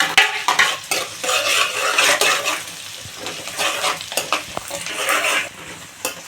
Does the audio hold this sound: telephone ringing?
no